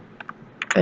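Several quick keystrokes on a computer keyboard, close and crisp, in a short sparse burst with a louder final clack.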